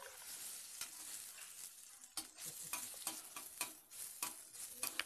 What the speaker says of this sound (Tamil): ஸோ இந்த நெய்யில் இந்த தேங்காய் வந்து நல்லா ஃப்ரை பண்ணிக்கோங்க.